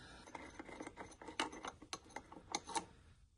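Bolts being loosened on the EGR valve of a 1.9 TDI diesel engine, with a run of quick metallic ratchet clicks and short scraping turns, close and fairly quiet, no talking.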